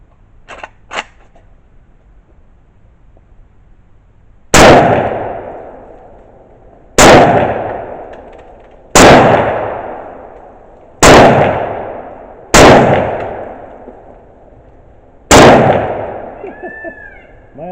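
AK-47 rifle firing copper-jacketed bulk ammunition outdoors: six loud, sharp single shots spaced a couple of seconds apart, each ringing off in a short echoing tail, preceded by faint mechanical clicks.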